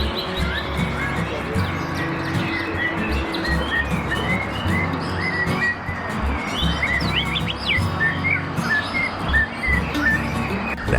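A caged songbird chirps and trills repeatedly during a warm-up session before a bird-singing competition. Sharp, bright calls come close and lively over a busy background of other birds and insect-like buzzing.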